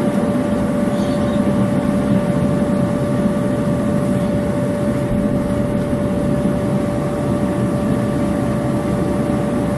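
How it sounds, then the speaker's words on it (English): A cheap electric air blower feeds a backyard metal casting furnace, producing a steady, loud, unbroken whirring drone with a constant tone and no pauses. "But turn the blower on. And the fire cranks up straight away."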